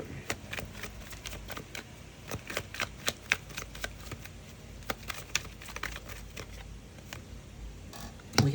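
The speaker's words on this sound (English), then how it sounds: "I'll give you a decent shuffle" Rider-Waite tarot cards shuffled by hand, giving a close, steady run of crisp riffling flicks and soft card slaps with a few sharper snaps, all without speech.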